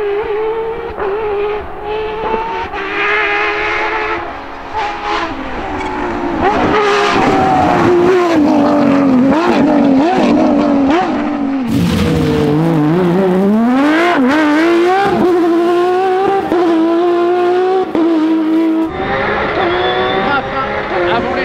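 Porsche 997 GT+ rally car engine heard onboard on a rally stage, loud and continuous, revving up and down through gear changes and braking, with a co-driver reading pace notes over it.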